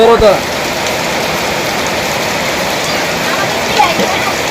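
Steady rain hisses and splashes close by, a continuous wash of water with a couple of brief louder knocks at the start and near the end.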